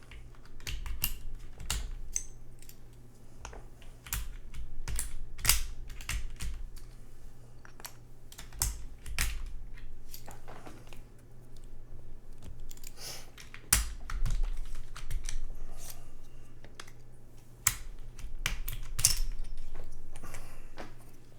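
Sharp plastic clicks and snaps come in irregular bursts as keycaps are pulled one by one off a mechanical keyboard, the clatter sometimes quick and sometimes spaced apart over a quiet background.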